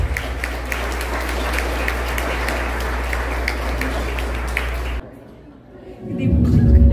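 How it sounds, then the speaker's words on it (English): Guests at a festival appreciation dinner applaud the board of directors, a steady mass of clapping over a low hum for about five seconds, then a sudden cut and a louder low-pitched rumble. "So a big round of applause to the board of directors."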